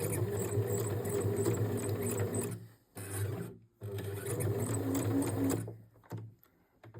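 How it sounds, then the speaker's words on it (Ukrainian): A sewing machine runs a line of stitching close to the edge of the fabric, about 3–4 mm in, in steady bursts with two brief pauses and a stop near the end. "І просто прокладаємо строчку так близько до краю."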